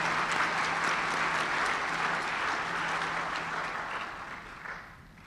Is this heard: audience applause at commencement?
yes